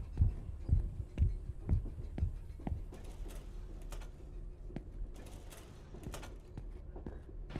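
Loud heavy heartbeat thumps in the horror video game The Ghost Train, six slow deep pulses in a row, then fading under scattered clicks, knocks and low background rumble.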